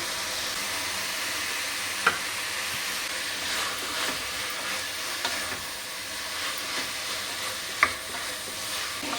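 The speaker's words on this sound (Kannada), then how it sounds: "ಈಗ ಶುಂಠಿ ಬೆಳ್ಳುಳ್ಳಿ ಪೇಸ್ಟ್ನ ಸೇರಿಸ್ಕೊಳ್ಳೋಣ" Onion frying in a pan with ginger garlic paste, for a mutton chops dish, giving a continuous close sizzle with soft stirring and two sharp clinks of a utensil against the pan.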